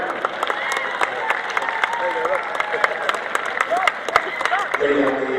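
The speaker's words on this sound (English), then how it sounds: "let's give a cheer then please for Rob Wilson and Neil Brown" Speedway crowd applauding and cheering at a sidecar meeting, a steady wash of clapping with voices mixed through it and occasional sharper claps standing out.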